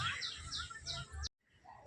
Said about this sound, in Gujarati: જો કાબર આવી છે પાણી પીવા માટે